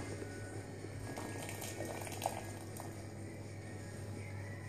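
Pasta with its cooking water being drained from a pot into radicchio, a soft, continuous bubbling and splashing of liquid, faint and steady, with a small splash partway through.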